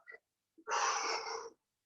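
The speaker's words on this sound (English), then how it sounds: "So deep breaths in through the nose and out through the mouth." One deep, steady breath, likely an exhale out through the mouth, during a strength HIIT workout. It is close and clear, lasts under a second, and follows a faint shorter breath before it. No other sound is heard.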